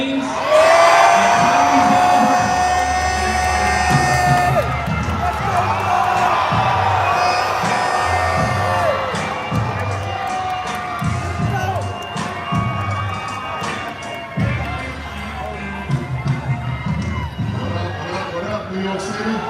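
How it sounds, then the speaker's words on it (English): A live audience at a podcast taping in New York City roars for host LeBron James, with loud, sustained cheering and whoops close by and voices calling out over the crowd. "Give a big round of applause for our host, LeBron James."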